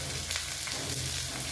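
Capsicum and onion frying in a pan with spices for an egg chilli curry, giving a steady, even sizzle that holds at a constant level throughout without pauses.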